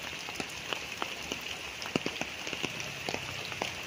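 Heavy rain falls on a farm lot with lansones trees in Magdalena, Laguna, a dense close patter with irregular louder drops tapping nearby surfaces, and no talk.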